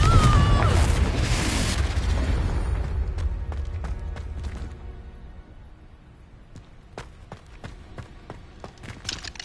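In Hogwarts Legacy, a Confringo spell blasts with a heavy, close boom and crackle. The rumble slowly dies away, and scattered sharp clicks and impacts follow.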